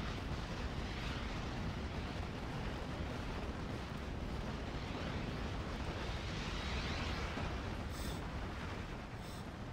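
P-47 Thunderbolt bombs pounding half-tracks in the World War II strategy game Steel Division: 1944, a dense continuous roar of explosions and rumble that stays loud throughout.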